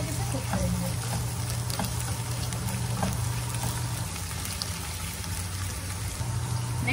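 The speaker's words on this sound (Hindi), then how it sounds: "अब हम इसमें ऐड करेंगे जिंजर गार्लिक पेस्ट 1 टीस्पून और इसकी रस मिल जाने तक इसे कुक करेंगे।" Onions and ginger garlic paste fry in a pan for curry, giving a soft, steady sizzle with a low hum underneath and occasional light ticks and stirring scrapes.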